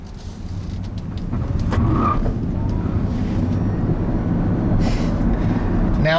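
A 2015 Kia Soul EV electric car driving, with a steady low road and tire rumble inside the cabin that swells in the first seconds, then holds even and fairly loud with no talking.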